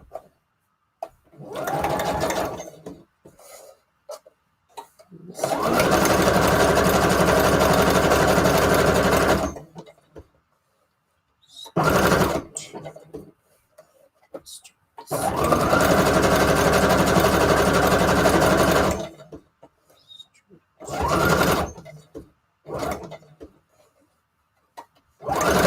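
A sewing machine stitches embellishments for a Christmas junk journal in several loud, sustained whirring bursts of a few seconds each, separated by short pauses with small handling noises and brief talk.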